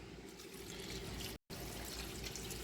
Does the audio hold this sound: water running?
yes